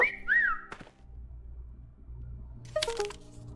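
Whistling at a dog in a video game demo, a short rising-and-falling whistled phrase at the start, followed by soft scuffs and a few brief crackly game sounds.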